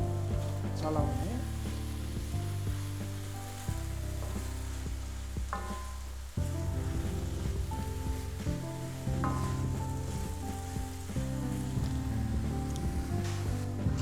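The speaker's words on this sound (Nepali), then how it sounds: "अनि मिक्स गरेर मजाले यसलाई चलाउने" Grated carrot halwa cooking in a pan, stirred with a soft scraping and a steady sizzle through most of the stretch, partly buried under continuous background music with melodic tones.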